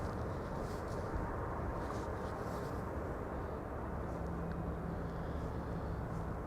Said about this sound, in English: A320 Neo arriving from London Stansted